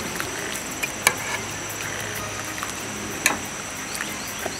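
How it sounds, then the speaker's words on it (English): Chicken curry with potatoes simmering gently in a thick sauce over low heat, a soft continuous bubbling and sizzle close by with a few faint pops. "The heat is on low, a gentle simmer"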